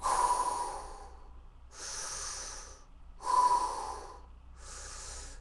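Four deliberate, forceful breaths during a yogic fire breath demonstration, each a close, airy rush of air lasting about a second, separated by short silent gaps.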